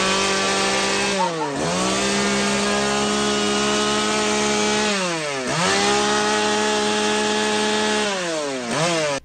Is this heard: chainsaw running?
yes